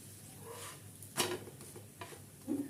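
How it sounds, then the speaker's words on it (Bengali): A potato paratha fries in a pan with oil, giving a steady soft sizzle, and a couple of brief scrapes and knocks from a spatula turning it sound close by. "পরোটাগুলো ভেজে নেব।"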